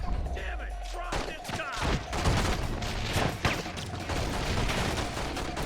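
Bursts of gunfire crackle through a PlayStation action game demo in dense, overlapping volleys set against a busy wash of game noise, loud and continuous for several seconds.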